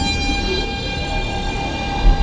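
An R160B Siemens subway train departing in the OpenBVE simulator, a steady rail rumble with a sustained tonal hum, close and continuous, with a brief louder low thump near the end.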